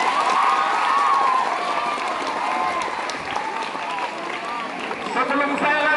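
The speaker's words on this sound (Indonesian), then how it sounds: "Tepuk tangan untuk siswa-siswi kita" A school hall crowd of students and staff at a Maulid Nabi event claps steadily, a dense sustained applause with some cheering and voices mixed in throughout.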